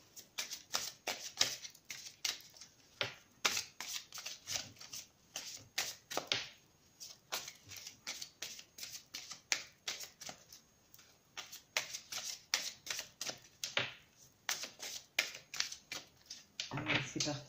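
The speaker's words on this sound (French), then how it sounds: "Et je vais tirer donc 3 cartes." Tarot cards are shuffled up close in a long run of quick, crisp riffling flutters with short gaps between bursts, while a voice speaks softly at times.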